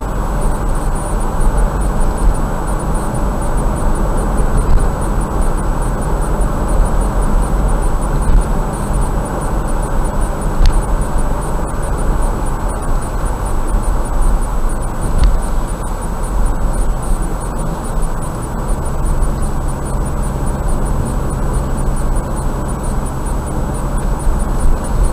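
Loud, steady broadband roar of a large aircraft coming in to land, heard from close by without a break and with no talk.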